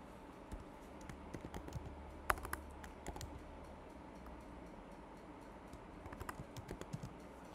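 Keys click on a computer keyboard in quiet, irregular bursts of typing, close by and faint against a low background hum, with no talk.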